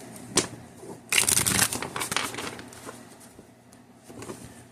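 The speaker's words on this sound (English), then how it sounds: "let's get a really good shuffle so I can open up this card for us today" Tarot cards being shuffled, a close run of papery riffles and soft flicking bursts, busiest early on and then tapering into lighter shuffling.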